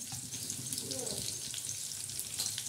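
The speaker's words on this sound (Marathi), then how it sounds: "आता हा लसूण पूर्ण चांगला असा हलवून घ्यायचा" Garlic frying in oil and being stirred in a pan for a methi vegetable dish, a steady close sizzle with faint scraping from the stirring and no talk.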